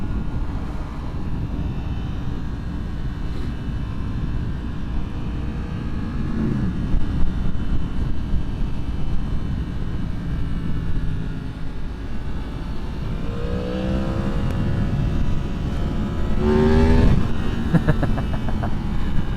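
A motorcycle, either a 2023 Yamaha MT-10 or a 2022 Triumph Street Triple RS, is ridden in second gear as the throttle rolls on, a steady engine drone under wind noise that swells into a rising rev, with a short popping burble near the end.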